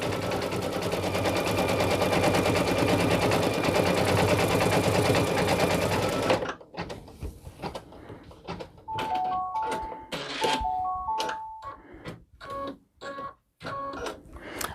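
An embroidery machine runs an outline placement stitch on a name patch, first as a loud, dense, continuous mechanical rattle, then stopping and giving way to scattered clicks and short beeping tones.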